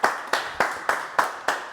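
Hands clap in a slow, regular beat, about five or six sharp claps evenly spaced, close and fairly quiet, greeting an act at a live music corner of a show.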